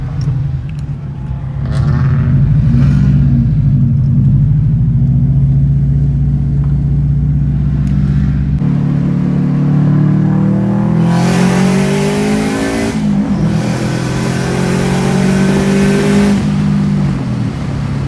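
Car engines at a packed car meet, a loud sustained rumble that swells into rising revs and accelerating sweeps, close and continuous throughout with no talk over it.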